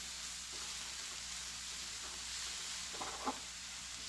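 Mushrooms, green onions and tomatoes cook in a pan with a quiet, even sizzle and hiss that runs throughout, joined near the end by a couple of faint stirring scrapes.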